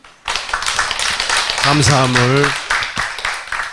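Congregation applauding at a Wednesday church seminar, with a steady, dense patter of clapping throughout while someone speaks over it.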